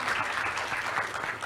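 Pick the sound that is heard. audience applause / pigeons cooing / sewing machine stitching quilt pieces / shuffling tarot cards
audience applause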